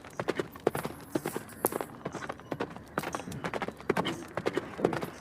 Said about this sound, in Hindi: वह आवाज़ तो राजा के घोड़े की थी